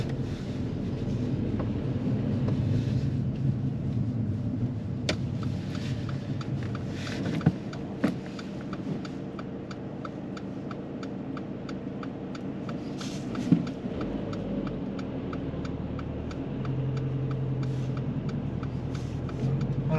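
A car pulls away and drives on during a driving test, a steady low engine and road rumble heard from inside with wind buffeting and a few small clicks and knocks.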